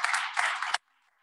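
Congregation at a Christmas church service clapping in a dense burst of applause for the choir, lasting under a second and cutting off abruptly into near silence.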